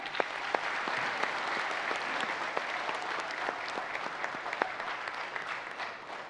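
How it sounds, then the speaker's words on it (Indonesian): A studio audience applauds millennial farmers at a graduation-themed TV show, dense sustained clapping from many hands filling the room evenly for the whole stretch. "Kita berikan aplaus untuk kita semua."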